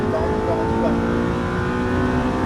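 An Audi R8 accelerates hard on the Circuit Paul Armagnac race track, its engine a loud, steady, close roar that holds without a break from start to finish.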